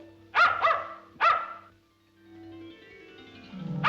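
A small dog yips sharply three times in quick bursts, close and loud, then a softer whine trails off.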